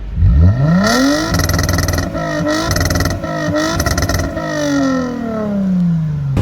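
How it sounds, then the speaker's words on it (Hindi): A Toyota Mark X 250G V6 sedan with an aftermarket HKS exhaust revs up sharply, holds at a loud, raspy pitch through several blips, then winds back down, close to the microphone. "Now listen to the exhaust note of this mark x."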